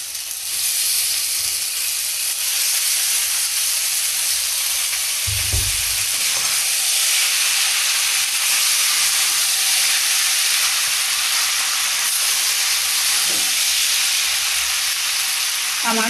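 Boiled pasta and noodles hit a pan of fried cauliflower, giving a loud, steady, close sizzle with a dull thud or two from the pan partway through. No one speaks.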